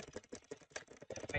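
Fingernails tap rapidly on a desk in a quiet room, imitating keyboard typing with an uneven patter of light clicks, close and fairly faint.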